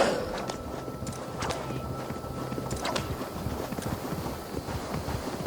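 Rhythmic hoofbeats of a horse in Assassin's Creed Valhalla clop along at a steady pace through a windy, noisy outdoor game soundscape, with a few sharper knocks mixed in.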